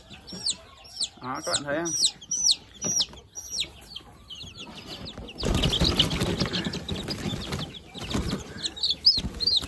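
Junglefowl chickens about 45 days old being handled at vaccination time, giving repeated clucks and short wing-flapping bursts close by, with a louder flurry of flapping midway, under intermittent talk.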